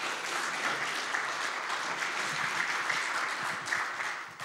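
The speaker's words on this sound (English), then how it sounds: "give her a clap" Sustained applause from a crowd, even and dense, continuing for several seconds without talk.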